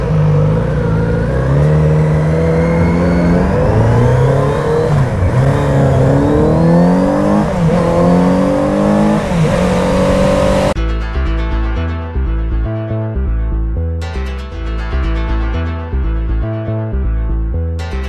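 A Kawasaki Z900RS motorcycle engine revs hard and loud up close, its pitch climbing and dropping through repeated throttle blips for about ten seconds before giving way to music.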